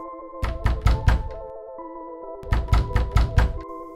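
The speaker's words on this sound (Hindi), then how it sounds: "वो दोनों हिम्मत करके घर के दरवाजे पर पहुंचे और दरवाज़ा खटखटाया।" Knocking on the door of a house: two bursts of four sharp, resonant knocks separated by a pause of about a second, close and alone over a faint, eerie background tone.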